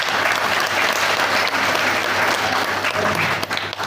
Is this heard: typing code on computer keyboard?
no